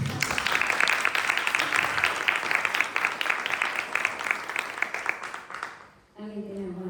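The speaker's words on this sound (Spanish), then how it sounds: "yo creo que un aplauso" Audience at a book presentation breaking into sustained applause, a dense patter of many hands clapping for about six seconds before it fades and a voice begins speaking.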